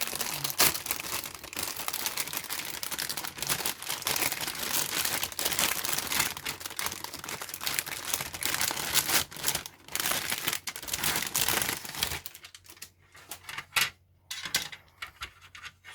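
A large plastic bag of 1/72 Zvezda C-130H Hercules model kit parts crinkles and crackles steadily up close, with dense rustling handling that thins into scattered quieter rustles near the end.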